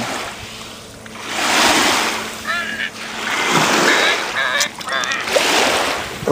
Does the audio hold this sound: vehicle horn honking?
no